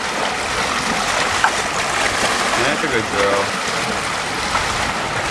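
Salt water runs and trickles steadily aboard a boat, a continuous splashing flow close by with a brief spoken word over it.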